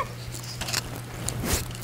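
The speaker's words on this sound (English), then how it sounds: "That's a good crunch right there" Someone bites into a homemade gluten-free cauliflower cracker, giving a few soft, brittle crunches close to the ear, fairly faint and spaced unevenly.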